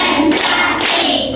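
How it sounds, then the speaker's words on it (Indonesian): Classroom clapping comes in a quick burst of sharp hand claps, close and fairly loud, with no talking. "Tepuk satu. Tepuk dua. Tepuk tiga. Tepuk empat."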